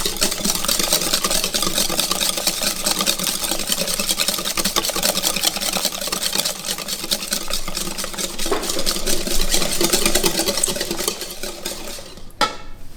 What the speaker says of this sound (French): Je prends la main pour fouetter énergiquement.